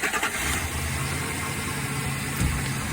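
Car engine running at idle while the battery voltage is checked with a voltmeter, a steady close low hum with a slight rev near the start and a brief bump late on.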